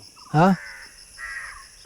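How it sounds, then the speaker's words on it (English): A single loud crow caw rings out close by, followed by a fainter, longer call. "Jatayu, we've got crows here."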